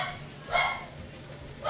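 A very friendly, excited dog barks at visitors arriving at the door, two short bursts about a second apart, moderately loud with no talk over them.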